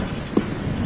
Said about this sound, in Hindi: अचानक से जंगल में तेज बारिश शुरू हो जाती है